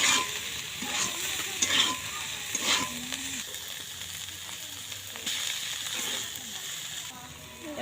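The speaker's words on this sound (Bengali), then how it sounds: "এই দেখুন সাদা তেল দিয়ে আমি শাক ভাজবো" Leafy greens frying in white oil with chopped garlic, a continuous sizzle punctuated by repeated stirring scrapes and clanks, loudest at the start, with faint voices now and then.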